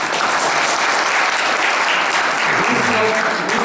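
Dense, steady applause from a seated audience at a town hall ceremony honouring a 60th wedding anniversary, loud and close, with a brief murmur of voices near the end.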